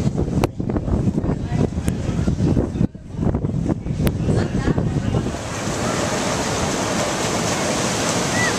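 Ocean waves wash onto the beach at Seaside Heights under gusty wind that buffets the microphone, with a continuous roar of surf and a few sharp knocks early on.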